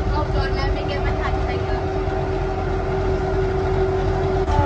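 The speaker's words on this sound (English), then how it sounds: "I know it's not Disney, but I do love a tram." A theme park tram ride at Busch Gardens Tampa rumbles along with a steady low drone, rattling and a tonal hum, with people talking over it close by.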